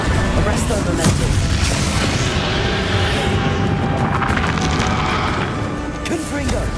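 Spell explosions in Hogwarts Legacy, heavy booming blasts and crashes layered into a loud, continuous wash of combat noise, with repeated impacts standing out above the rumble.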